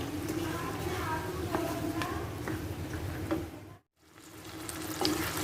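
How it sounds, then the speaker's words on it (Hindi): Tomatoes and green chillies fry in a pan for a chicken daal, giving a steady, close sizzle that runs under continuous talking, with one brief near-silent gap before the frying noise returns. "टमाटोज़ भी हमने अंदर डाल के इनको भुना है"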